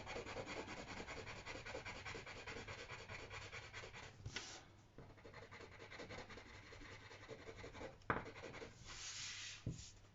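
Pencil shading on paper while drawing a night light design, strokes kept going one direction; a steady, close scratchy rubbing runs throughout with a few brief louder scrapes and taps, no talk.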